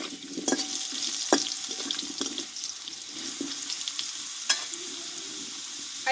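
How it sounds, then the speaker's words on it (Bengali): Potato pieces frying in a pan while being stirred, a steady close sizzle broken by clacks and scrapes of the spoon against the pan at irregular intervals. "আলুগুলো একটু ভালোভাবে কষে নেব"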